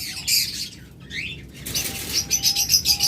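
Lovebirds of a local breed, kept as pet birds for sale, flap their wings in bursts and give high chirps and tweets, close and fairly loud, with no talking.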